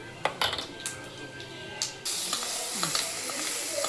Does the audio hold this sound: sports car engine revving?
no